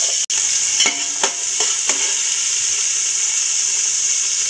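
Onions sautéing in hot oil with bay leaf, cardamom, clove and cinnamon for fish biryani give a steady close sizzle, with a sharp tap near the start and a few light stirring scrapes along the way.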